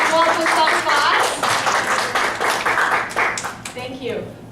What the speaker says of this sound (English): Will you give us Yuan a big round of applause?